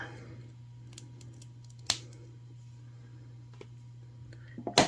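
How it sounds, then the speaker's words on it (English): Jewelry wire cutters snip off excess wire while a necklace is being made, one sharp close click standing out among faint taps and handling over a low steady hum, with a few more small clicks at the end. "And go in with my cutters. Cut off the extra wire."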